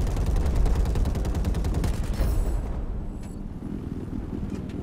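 Rapid automatic gunfire in a video game shooter, loud and close, a fast steady stream of shots for about two seconds before easing into quieter, scattered rumbling.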